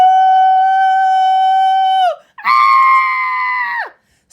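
A loud howl in a children's story: one long sustained high wailing tone that breaks off and is followed by a second strained, shrill howl, both loud and close.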